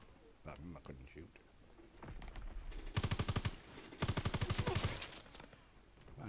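Gunfire in Call of Duty WWII multiplayer, two loud bursts of rapid machine-gun fire with a speaking voice heard before them.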